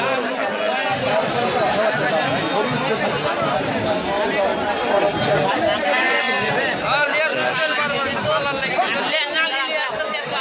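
At a goat market in Tebaria, Natore, goats bleat repeatedly among close, constant crowd chatter, with several wavering calls rising above the babble of people talking.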